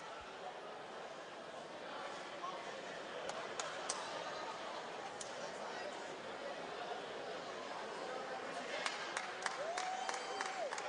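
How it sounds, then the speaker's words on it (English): Boxing crowd applauding after a round, a broad roar of clapping and chatter in a big arena, fairly distant, with scattered sharp claps and a commentator talking over it. "The crowd once again showing their appreciation to Jose Medina."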